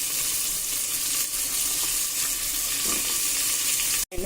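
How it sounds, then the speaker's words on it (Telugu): Cut drumstick pieces dropped into a hot pan with asafoetida, producing a dense, continuous sizzle up close with faint stirring, cut off sharply at the end. "ములక్కాడలు వేస్తున్నాను"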